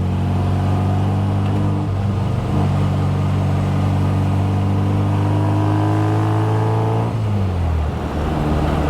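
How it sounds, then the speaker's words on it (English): A 1960 Austin-Healey Bugeye Sprite engine revving through twin tip mufflers, a loud, close, steady droning exhaust note that rises in pitch then drops back near the end. "These twin tip mufflers can be quiet if you're easy on the gas, or they get louder like back there when I got on the pedal a little bit"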